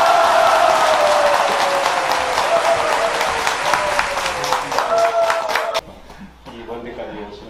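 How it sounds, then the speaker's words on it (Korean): An audience at an indoor book concert on play breaks into loud, sustained applause to welcome a speaker. The clapping rings out for several seconds, then drops off abruptly into quieter room sound. "우리 놀자 선생님을 큰 박수로 모시겠습니다"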